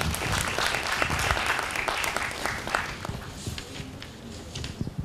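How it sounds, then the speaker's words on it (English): Audience at an emotional intelligence and leadership summit applauding a panelist, dense clapping from a crowd that fades gradually over several seconds. "A round of applause for him,"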